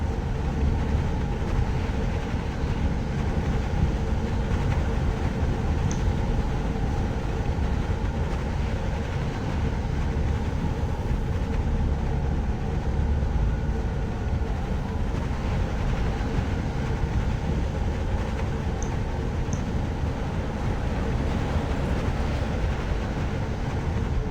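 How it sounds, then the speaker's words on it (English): Monorail in the video game Jurassic World Evolution 2 runs with a continuous, even rumble and rolling hum that holds steady throughout, with no talking. "I wonder what the speed of this monorail is."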